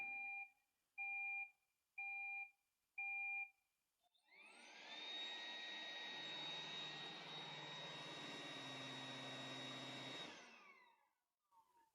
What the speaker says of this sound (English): It'll start the job, and here goes the vacuum.